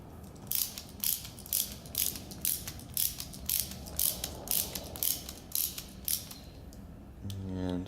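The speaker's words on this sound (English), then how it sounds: "Stick those in there. Right here. And tighten them up." Small screws being tightened into a two-stroke carburetor, a regular run of close ratcheting clicks at about one per second, ending in a short whirring buzz.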